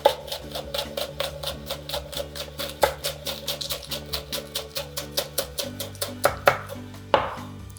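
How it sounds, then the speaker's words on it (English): Knife chopping green onions and jalapeno on a cutting board, a rapid, regular series of crisp close taps, around thirty strokes with brief pauses, over faint background music. "the only thing we're gonna end up slicing for this is green onion, and I want a jalapeno"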